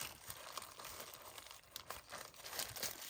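Small plastic baggies crinkle and rustle close up as they are handled, a continuous soft crackling with brief sharper crinkles and no talk.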